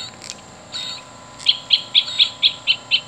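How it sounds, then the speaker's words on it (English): Great spotted woodpecker call from a Wild Republic Audubon plush toy speaker, a few soft lead-in notes then seven sharp evenly spaced high chips in quick succession, small and electronic-sounding. "Great spotted woodpecker."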